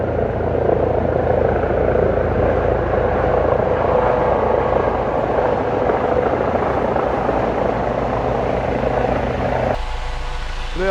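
A helicopter circles low over a tent outdoors, its steady loud rotor drone filling the air nearby and continuous, shifting slightly as it passes overhead, with no talk.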